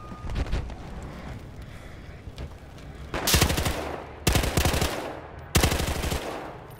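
Loud automatic gunfire from a Battlefield Hardline match, three long sustained bursts in the second half after scattered fainter shots and in-game ambience.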